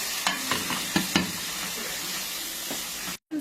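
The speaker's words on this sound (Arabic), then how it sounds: "هنزل بالكريماني زي ما انتم شايفين كده وهبتدي اقلب كده" Cremini mushrooms stirred in a hot cooking pan with onion: a constant loud sizzle broken by several scraping stirs early on, then a brief cut to silence near the end, with no talk.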